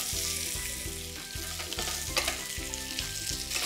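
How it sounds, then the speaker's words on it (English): Patra rolls with sesame seeds pan frying in hot oil give a continuous crackling sizzle close up, steady throughout under light background music. "we're going to be pan frying them into this for about 3 to 4 minutes"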